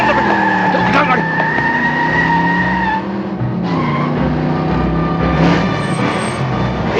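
A car pulls away hard with a long, loud tire squeal, the engine roaring beneath the skid and shifting pitch as the vehicle speeds off.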